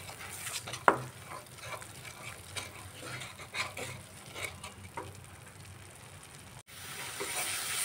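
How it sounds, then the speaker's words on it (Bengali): Salted spice paste (masala) is stir-fried in a pan, giving a soft, fairly quiet sizzle with a sharp clack of a utensil early on and then irregular scraping stirs, ending in a smoother steady hiss. "এভাবে মশলাটা ভালো করে কষিয়ে নিতে হবে।"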